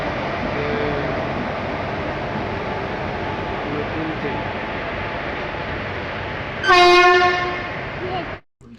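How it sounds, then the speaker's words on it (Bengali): Steady rumbling train noise throughout, then a loud blaring horn sounds near the end before cutting off abruptly. "ওই ট্রেনটা দাঁড়াবে।"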